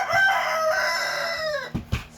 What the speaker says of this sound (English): Sorry about my roosters.